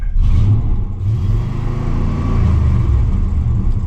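A car engine, its fuel system running in open loop with a fault, revs up as the throttle is pressed, a rising mid-pitched whir over a low rumble, loud and close for a few seconds with no talk.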